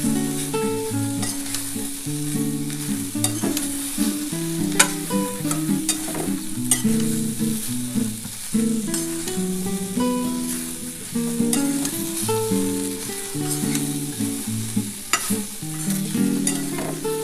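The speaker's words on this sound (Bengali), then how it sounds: "আগে খুব ভালো করে একটু ভাজা ভাজা করে নিই" Bitter gourd, eggplant, green banana and potato frying in very little oil with salt and turmeric sizzle steadily up close, with spatula stirs and tonal music playing underneath throughout.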